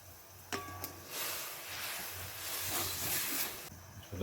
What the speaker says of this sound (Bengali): জলটা আমার ফুটে গেছে